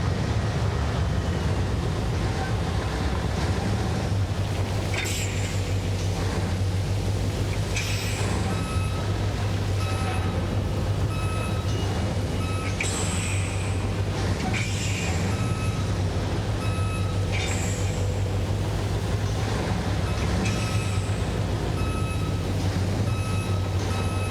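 Video game truck reversing to park trailers at a dock, with steady repeated reversing beeps over a constant low engine drone and occasional air-brake hisses, loud and continuous.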